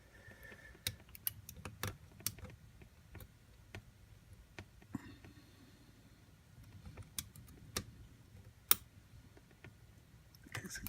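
Lock pins clicking inside a gutted lock being single-pin picked: sparse, sharp little clicks and ticks at irregular intervals, close and quiet over a low rumbling background, with no talking.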